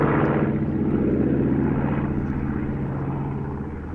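A propeller aeroplane drones loudly overhead at Sywell Airshow 2024, its throbbing engine tone steady before easing off slightly as it passes.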